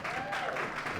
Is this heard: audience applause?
yes